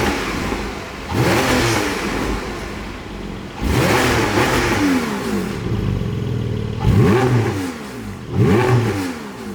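A Porsche 718 GT4 PDK engine revs up close and loud in repeated blips to around 5,000 rpm. Each rise climbs and falls in pitch, with a lower idle burble between the bursts.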